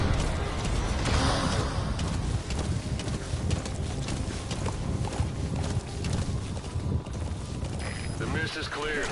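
Horse hooves clip-clopping in a PS4 video game, a busy rhythmic clatter mixed with game sounds and someone talking over it.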